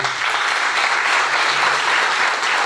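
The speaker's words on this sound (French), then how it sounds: "Applaudissez-le." An audience claps at a mayor's New Year greetings ceremony, a loud, dense burst of applause from a full room that holds steady for a few seconds.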